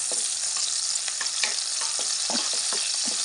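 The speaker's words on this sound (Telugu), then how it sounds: "వేడెక్కిన ఆయిల్లోకి పచ్చిమిర్చి వేసుకుందాం. పచ్చిమిర్చి వేసుకొని కలుపుకుందాం." Green chillies fry in hot oil while a utensil stirs them, making a steady, dense sizzle broken by small scraping stirs throughout, with no talk.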